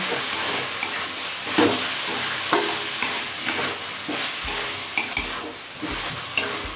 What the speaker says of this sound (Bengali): এবার এই আদা রসুনের কাঁচা গন্ধ চলে যাওয়া পর্যন্ত কষিয়ে নেব